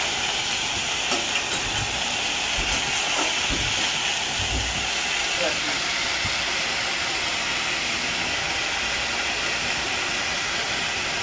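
Dheki shak fern greens hiss and crackle as they are stir-fried with salt in a pan, a dense continuous sizzle with a few scraping stirs early on, no talking.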